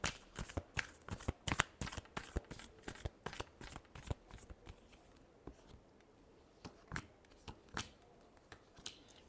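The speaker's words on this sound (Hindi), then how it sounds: "शफल।" Tarot cards shuffled by hand, a rapid series of crisp riffling snaps, close and fairly quiet, thinning out into sparser flicks toward the end.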